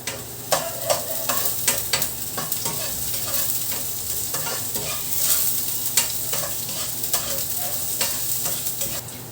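Chopped onions and garlic fry hard in a pan, a dense close sizzle punctuated by repeated scraping and clacking strokes of a spatula as they are stirred, with no talking.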